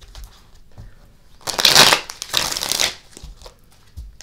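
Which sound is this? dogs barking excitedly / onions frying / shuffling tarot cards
shuffling tarot cards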